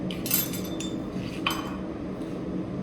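Knife and fork cutting a cap steak on a plate, a few light metallic clinks and scrapes over low background noise, fairly close and quiet.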